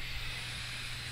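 Steady hiss of steam venting from a gas-stove pressure cooker after cooking a soupy beef pares, a continuous even rush with no pauses.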